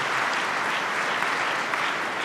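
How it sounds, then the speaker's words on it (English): Broadcasters' convention audience applauding a Vice President's address, a continuous, even wash of clapping from a large crowd filling the room with no voices above it. "So please give yourselves a round of applause for the difference that you make in the lives"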